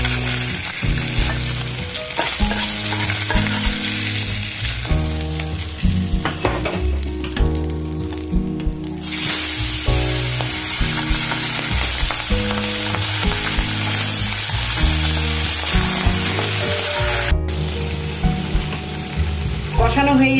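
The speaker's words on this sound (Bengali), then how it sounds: "মাছ আমার ভাজা হয়ে গেছে, ঠিক এরকম ভাজবো।" Pabda fish fries in a pan with a loud, continuous crackling sizzle that carries on steadily for the whole stretch, close up with no talking.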